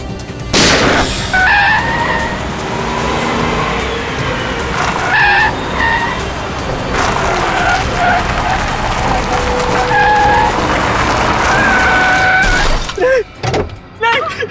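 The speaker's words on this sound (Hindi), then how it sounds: "बहुत कार रेसिंग कर ली" Racing cars with tyres skidding: long, loud, piercing screeches rise and fall repeatedly over roaring engines, several squeals in succession and a sharp final skid.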